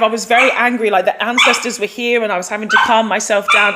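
Pet dog barking, yipping and whimpering close by in a home, its excited calls mixed into a person's continuous talk.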